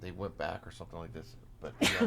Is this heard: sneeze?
yes